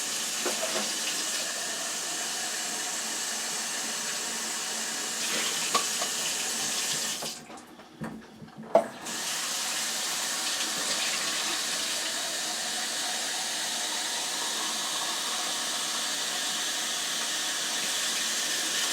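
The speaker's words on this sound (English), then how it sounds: "And then I'm going to add 3½ cups of water." Water runs steadily from a tap, briefly cutting off for about a second midway before flowing again, with no voices.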